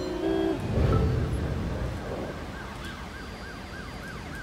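A police car siren wails in the driving game Driver San Francisco, a rising and falling whoop repeating steadily over loud engine and road noise, with no talk.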